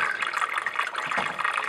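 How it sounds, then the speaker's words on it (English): Water flowing down through a water clock, a steady bright splashing and trickling stream with continuous burbling, close and moderately loud throughout. "So then the water flows down below."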